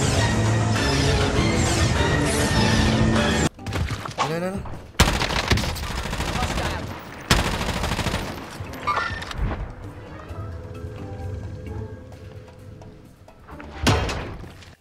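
Gunfire in a shooter video game: rapid dense volleys of shots, loud and close, then sparser single bursts and impacts amid game sounds, with a player talking in between.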